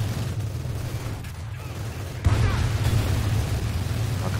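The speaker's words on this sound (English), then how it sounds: "We are taking" Company of Heroes 2 Stalingrad battle gunfire: a continuous rumble of distant shots and blasts keeps a dense, steady wall of noise. A sharper, louder burst breaks in about halfway through.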